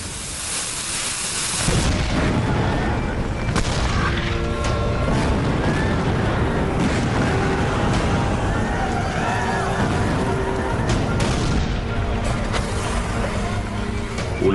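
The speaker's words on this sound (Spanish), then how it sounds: "Pero se encontrarán con 20 cañones de la Unión a 350 metros de distancia" Heavy booming blasts from Civil War-era cannon at Gettysburg roll over a continuous rumbling din, loud and sustained with no pauses.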